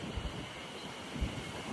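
Strong wind in Nasushiobara buffets the microphone with a steady low roar and heavier gusts thumping through near the start and again past the middle, with no voices.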